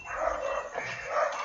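Several dogs barking near a Florida club, a quick burst of sharp barks and yips close by, with no talking over them.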